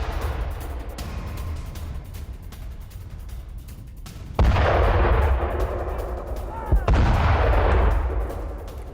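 Artillery fire and explosions in the Russia–Ukraine war: a sustained rumbling barrage, with two sharp loud blasts hitting midway and near the end, each followed by rolling, echoing booms.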